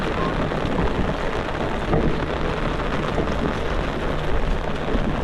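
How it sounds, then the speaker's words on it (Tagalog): Heavy rain pours down in a dense, constant hiss, loud and close, with no voices. "Lakas ng ulan, mga kakri, pambihira."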